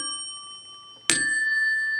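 A telephone bell rings with two different tones, a sharp metallic strike that leaves a long, bright, ringing tone, clear and alone.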